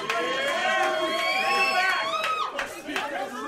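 A live podcast audience in Vancouver cheers and whoops loudly, a sustained roar of voices with people talking over it before it thins out.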